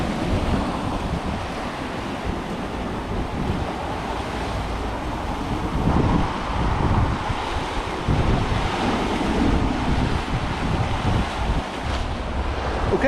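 Sea waves breaking along the Torbay coast in Devon, a steady rolling wash of surf with wind buffeting the microphone, swelling slightly louder partway through, with no voices.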